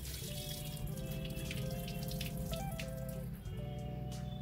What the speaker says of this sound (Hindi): एक घंटे के बाद पानी को फेंक दें और इसे एक बार और अच्छे से धो लें।